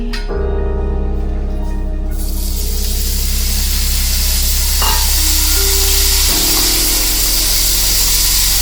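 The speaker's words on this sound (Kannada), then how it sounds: "ಇನ್ನೊಂದು ಚಮಚ ತುಪ್ಪ ಹಾಕಿ ಇದಕ್ಕೇನೆ ಪನ್ನೀರ್ ಫ್ರೈ ಮಾಡ್ಕೋಬೇಕು" Paneer cubes frying in ghee for paneer capsicum cashew masala, a loud, continuous close sizzle with steady hiss and occasional shifts as pieces move in the pan.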